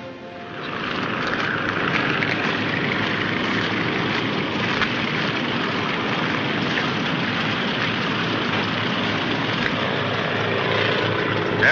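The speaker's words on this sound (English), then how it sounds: "Gentlemen, this is an airplane." An airplane engine idles in a steady, rough drone that stays level throughout. It sounds as if it comes from an early-1940s military training aircraft, and no voices are heard.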